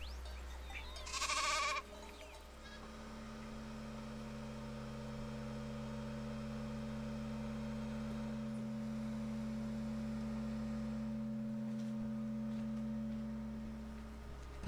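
A single short sheep bleat sounds near the start, followed by a long, steady low electronic hum.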